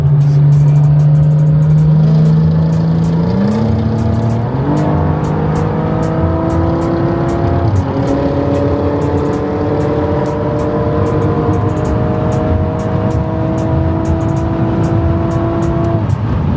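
A GT4 sports car drives on a road in Luxembourg, its engine droning steadily and close, climbing in pitch and dropping back through several gear shifts early on, then holding a continuous cruising hum.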